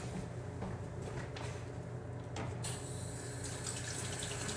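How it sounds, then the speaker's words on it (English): Hands washed under a running kitchen tap make a continuous, fairly quiet splash of water hitting a sink, with small shifts in the flow as the hands move, and no talking. "first, I'm gonna wash my hands."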